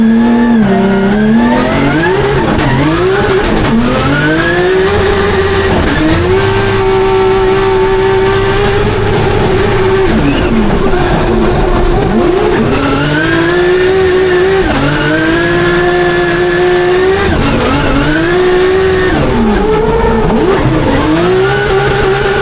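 Loud, close drift car engine at a Drift Masters competition round in Spain, revving hard in repeated surges and bouncing off the limiter, with clutch kicks sending the pitch swooping up and down.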